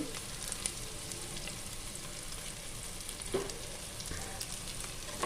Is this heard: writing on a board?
no